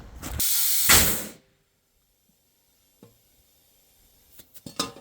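A jack ratcheting at an Amish sawmill: a loud, close mechanical burst lasting about a second, followed by quiet, then scattered sharp metallic clicks near the end.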